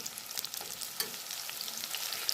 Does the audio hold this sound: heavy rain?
no